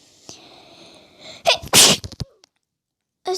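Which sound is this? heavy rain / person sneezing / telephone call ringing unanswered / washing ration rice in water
person sneezing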